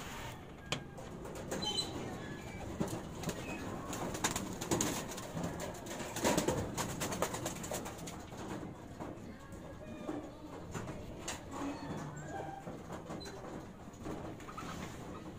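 Racing pigeons coo softly in the background, with scattered wing flaps and shuffling noises close by; a voice talks briefly now and then.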